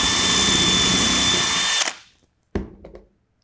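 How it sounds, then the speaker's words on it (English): A power drill with a countersink pilot bit bores a hole in a fixed piece of material, a loud steady whine that stops abruptly, followed by a short burst and a few fading clicks. "You drill your hole."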